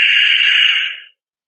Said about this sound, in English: seal your lips and push air from the back of your throat, and it's also going to make a nice sound like this